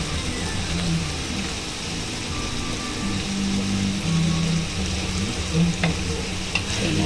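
String beans (sitaw) sautéing for adobong sitaw in a pan, a loud continuous sizzle with stirring scrapes running steadily throughout.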